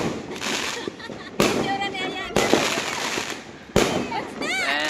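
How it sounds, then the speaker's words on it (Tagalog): New Year fireworks boom and crackle in repeated bursts, with whistling, fizzing trails between blasts, while people cheer and shout over the noise. "Yeah! Fireworks! Fireworks!"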